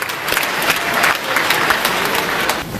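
A lecture-hall audience at Cambridge University claps for Premier Wen Jiabao, a loud, continuous applause of many hands throughout.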